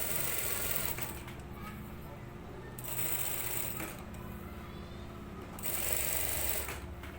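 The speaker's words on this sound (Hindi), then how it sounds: "बिल्कुल किनारी किनारी मैंने इस पर लगाई है सिलाई" Sewing machine stitches along the neckline edge of a suit, its fast whirring rattle running in bursts with short pauses, close and fairly loud, while someone talks over it.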